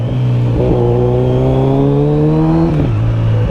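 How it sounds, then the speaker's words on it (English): Motorcycle engine revving hard on a road in Bournemouth, the pitch climbing steadily through a gear, then dropping with a quick blip for a rev-matched shift, loud and close. "this bike sounds absolutely savage. And just the rev matches as well."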